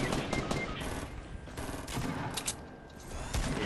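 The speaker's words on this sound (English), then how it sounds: "Where the hell are they shooting from" Dense automatic gunfire from the video game Fortnite fills the whole stretch, loud and continuous, with rapid overlapping bursts and sharper individual cracks standing out.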